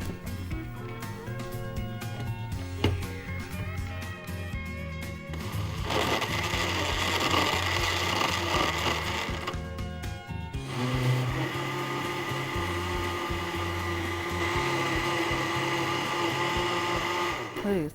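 A kitchen blender whirs loudly as it blends lassi ingredients, running in bursts with brief pauses and changes in pitch, with a voice speaking at the start.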